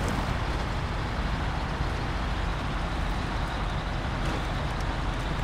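In the Snowrunner video game, a modded truck with an S-Plus engine strains through deep mud, giving a continuous gritty engine roar with wheel churn, loud and unbroken.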